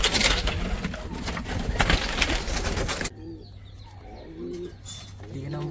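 Pigeons cooing close by, soft low coos after a stretch of rustling and flapping noise, with a voice speaking briefly.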